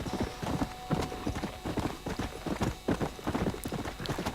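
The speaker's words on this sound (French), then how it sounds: "Il va vite, hein, mon cheval." A blond horse gallops in Red Dead Redemption, its hooves pounding in a fast, steady, loud rhythm close by.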